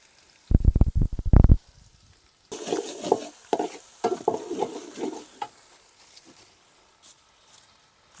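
Ground ginger and green chili paste fry in vegetable oil. A burst of sharp clatter comes first, then several seconds of bubbling, spattering sizzle with stirring that fades toward the end.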